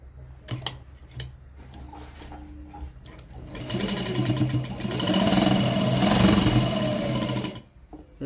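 Sewing machine stitching a lined blouse: a few scattered clicks and handling noises, then a steady whirring run of stitching that builds, holds for several seconds and stops.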